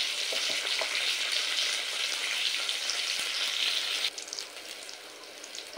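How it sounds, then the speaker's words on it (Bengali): Pointed gourd (potol) fries uncovered in hot oil over medium heat: a steady, close, crackling sizzle that drops to a softer, patchier fizz after about four seconds. "এই রকমই মিডিয়াম আছে পটলগুলো লাল করে ভেজে নেব"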